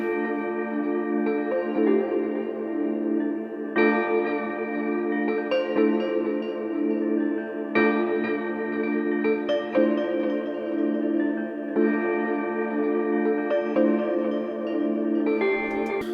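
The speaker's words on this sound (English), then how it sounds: "First, I started with these bells from CMI." Detuned bell samples from a CMI sampler play a simple repeating pattern of bright, ringing struck tones, each new hit layering over the decay of the last, alone and clear.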